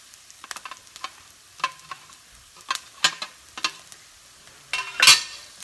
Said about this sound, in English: So I'm going to saute that for just a minute.